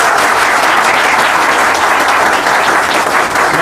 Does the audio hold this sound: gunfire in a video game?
no